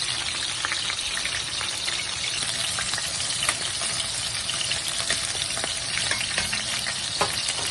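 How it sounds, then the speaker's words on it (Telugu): Chillies and carrot frying in a pan for chicken and egg noodles, a steady dense sizzle like light rain, with occasional soft scrapes and taps from stirring, close and constant throughout. "ఫస్ట్ చిల్లీస్ ఫ్రై అయిన తర్వాత క్యారెట్ వేసుకున్నాం."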